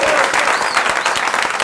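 A studio audience claps loudly for guests on a TV show, a dense burst of many hands close by that runs for under two seconds, with scattered individual claps standing out.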